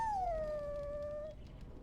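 A dog in Dragon Age: Origins gives a long, high, falling whine that settles into a steady drawn-out howl, then fades over soft background ambience.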